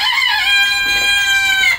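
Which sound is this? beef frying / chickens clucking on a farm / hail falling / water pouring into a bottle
chickens clucking on a farm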